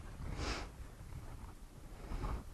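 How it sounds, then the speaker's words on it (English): Two quick sniffs of wine swirled in a glass, close and soft, with a short nasal burst near the start and another near the end, no talking. "So a couple of quick swirls and a couple of quick sniffs"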